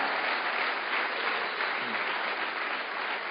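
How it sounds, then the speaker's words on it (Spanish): A church congregation claps loudly and continuously, dense applause filling a large room for a few seconds without pause. "Dar un aplauso más fuerte al Señor."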